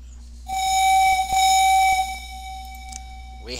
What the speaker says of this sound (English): we have the air whistle on the caboose